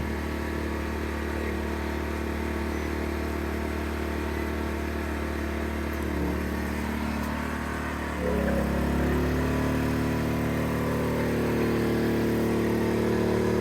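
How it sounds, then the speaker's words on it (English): Steady engine drone of an AMERISUN 2500 watt portable gas inverter generator running continuously, its pitch and loudness rising partway through as a microwave is switched on and the load increases. "Here's a clip of me using the generator with a microwave."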